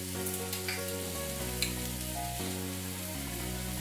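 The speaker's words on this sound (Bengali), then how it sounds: "আদা বাটা দিয়ে আবার একটু নাড়াচাড়া করে নিচ্ছি" Pumpkin and yard-long beans frying in a pan with ginger paste, a steady close sizzle with occasional stirring scrapes over a continuous low hum, no voices.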